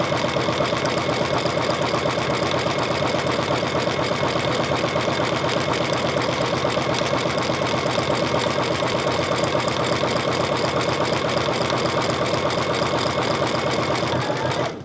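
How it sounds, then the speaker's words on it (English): A sewing machine stitches an appliqué letter, running at a steady, even pace for the whole stretch, close up and loud, with no talking over it. "I'm going to just start stitching"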